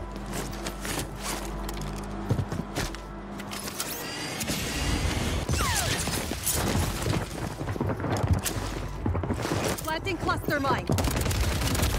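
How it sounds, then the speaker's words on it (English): Sniper and other gunfire in an online shooter game, with rapid bursts and scattered shots over a constant layer of engine and mechanical noise, fairly loud and busy, with voices underneath. "I'm getting sniped by this guy now"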